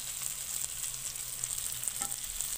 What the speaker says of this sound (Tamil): நல்லா கலர்ஃபுல்லான ஒரு ஃபிஷ் ஃப்ரை ரெடி ஆகிட்டுருக்கு